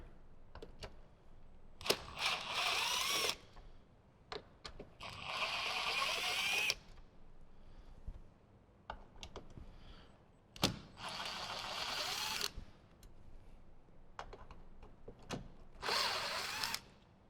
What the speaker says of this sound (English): we're going to remove the 3 T25s on the top of the plastic trim panel